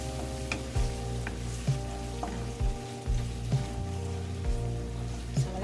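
Onions sauté in a pan with a continuous gentle sizzle and crackle, plus occasional stirring knocks, heard alone over a soft steady musical tone.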